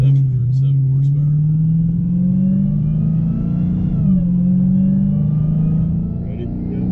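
A 2016 Dodge Challenger SRT Hellcat with 707 horsepower roars loudly up close, its engine note climbing steadily, dipping briefly at a shift, then pulling hard again, with voices heard faintly early on.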